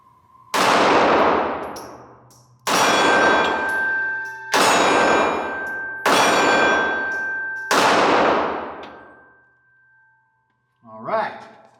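Five loud, sharp reports from a Ruger LCP Max .380 pistol, fired one at a time about two seconds apart, each with a bright metallic ring and a decaying tail, followed by a short metallic clatter.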